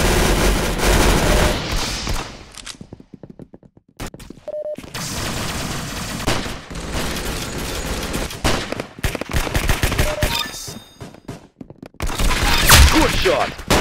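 Rapid, dense gunfire from a hand cannon in the Arsenal shooter game, loud and continuous with brief pauses, booming impacts and pops layered together.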